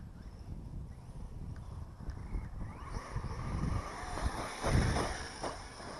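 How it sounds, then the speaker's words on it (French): Outdoor wind gusting across the microphone during an HPI Savage HP 4S RC car test, a steady low rumble that swells and buffets louder toward the end, with no talking. "Il y a un petit peu de vent et pas trop"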